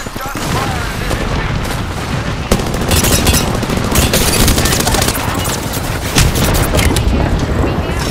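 Continuous loud gunfire from Apex Legends fills the stretch, with dense bursts and sharp shots that stay steady throughout and occasional louder booms.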